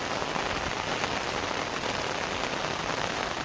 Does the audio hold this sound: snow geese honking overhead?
no